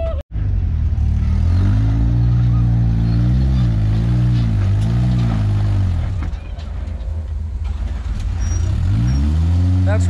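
An off-road vehicle crawls over rocks in Coyote Canyon near Moab, its engine loud and close, droning and rising and falling in pitch as it works the throttle over obstacles, with people talking over the noise.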